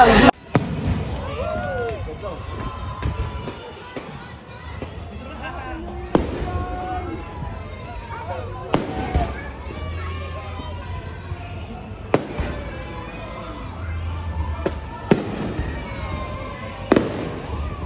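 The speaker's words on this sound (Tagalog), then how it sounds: "merong fireworks display dito sa may space shuttle area" Distant fireworks pop and boom at irregular intervals over a steady crowd murmur and occasional talking nearby at an outdoor company family day.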